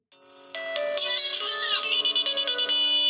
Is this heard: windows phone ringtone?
yes